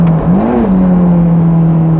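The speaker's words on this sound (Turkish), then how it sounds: "Bir de heel and toe yapıyorum." Honda S2000 engine held at a steady drone, then blipped quickly upward and settling back during a heel-and-toe downshift; a brief rising and falling rev swell over a continuous close, loud engine tone, no talk.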